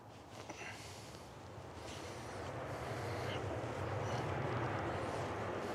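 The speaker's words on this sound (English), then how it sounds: "So we've got Ryanair from Belfast coming in first. This is flight 190, operated by 738" A Ryanair Boeing 737-800 arriving from Belfast lands at Manchester Airport, heard as a distant jet roar that slowly swells beneath wind noise on the microphone.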